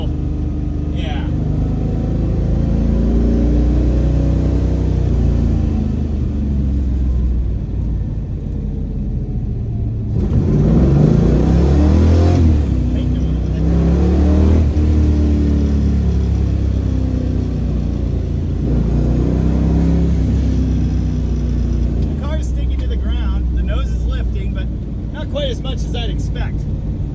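A classic Mopar drag racer rolls into acceleration at low RPM on a street partway around a corner, its engine rumble loud and steady throughout, rising in a surge midway, with talk over it.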